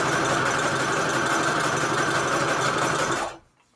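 A sewing machine stitches junk journal signatures with a steady, loud mechanical whirr up close, running without a break for about three seconds before it stops suddenly.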